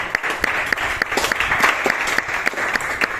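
Congregation applauding during a church service, a dense, continuous clatter of many hands clapping with sharp individual claps standing out, steady and fairly loud throughout.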